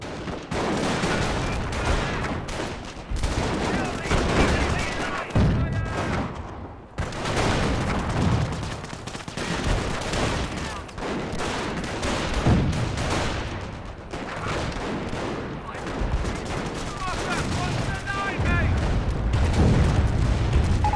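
Artillery barrage and gunfire in the Company of Heroes video game during a 4v4 D-Day match, with repeated booming impacts and rattling small-arms fire layered into a dense, continuous battle roar, with speech faintly mixed in.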